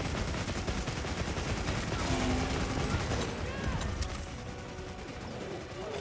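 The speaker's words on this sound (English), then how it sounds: "And then we can go into machine gun mode." Rapid bowgun fire in machine gun mode during a Rey Dau hunt in Monster Hunter Wilds, a dense, continuous rattle of shots over a busy game soundscape, easing off slightly near the end.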